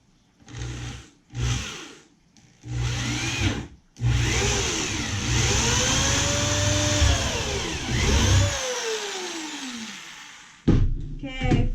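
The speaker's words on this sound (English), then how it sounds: "Okay, first hole drilled." A drill boring a hole into a sit-in kayak, several short whirring bursts followed by a long sustained run whose pitch rises and falls under load, close and loud.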